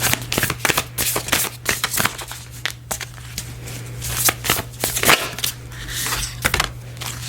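Tarot cards being shuffled by hand, a dense run of crisp riffling flicks and slaps repeating close up, with a steady low hum underneath.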